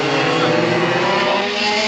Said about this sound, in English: They have also their engines really going well.